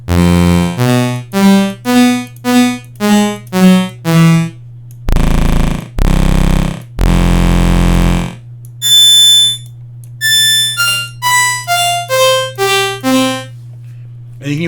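Series of synthesizer tones: short stepped notes, then sustained buzzy chords, then brighter quick notes over a constant low drone.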